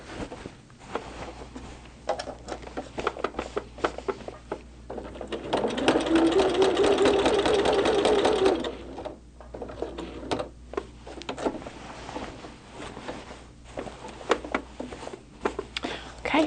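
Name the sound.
sewing machine quilting a Christmas tree quilt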